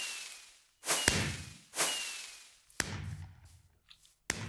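Minecraft fireworks launching in game: two rising whooshes swell and fade, each ending in a sharp burst, followed by a louder crack with scattered crackling and a final sharp pop, close and clear with no speech.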